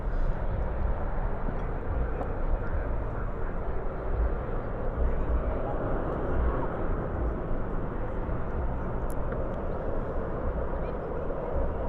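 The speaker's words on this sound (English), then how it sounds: "reversers up, reversers out" A large airliner roars as its thrust reversers deploy on landing at DFW airport, a broad, sustained distant jet rumble with no break, heard from outside.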